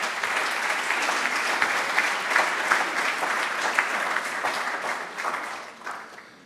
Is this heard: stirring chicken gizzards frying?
no